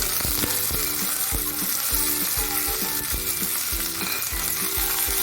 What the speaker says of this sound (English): Now the oil is heated, so I'm going to add the mustard.